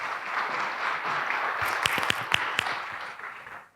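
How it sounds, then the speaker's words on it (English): Applause from the audience at a manufacturing launch event: a soft, continuous wash of clapping, with a few distinct nearby claps near the middle before it tapers off. "Please give her a warm round of applause."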